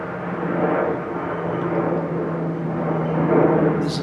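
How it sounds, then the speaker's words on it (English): A fixed-wing airplane flies overhead as a steady, broad engine drone that swells slightly and holds throughout, with no voices over it. "There's a plane flying overhead at the moment, so I'll just momentarily pause rather than be drowned out."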